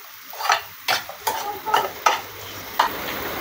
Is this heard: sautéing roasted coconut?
yes